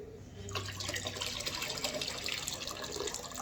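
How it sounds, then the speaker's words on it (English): Tap water runs steadily into a sink as okra is rinsed, a continuous close splashing hiss that starts after a brief low hum and carries on alone without talk. "I'm gonna rinse my okra off."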